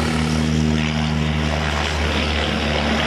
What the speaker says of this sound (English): There's been some exciting passes here as the aircraft almost drag their tips on the runway.